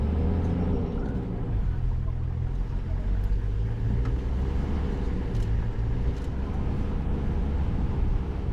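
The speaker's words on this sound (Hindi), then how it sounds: "मसाई मारा के उबड़ खाबड़ कच्चे रास्तों पर हमारी 4x4 गाड़ी संघर्ष कर रही है।" A 4x4 safari vehicle grinds along rough, muddy dirt tracks in the Masai Mara, its engine giving a steady, loud low rumble that continues without a break.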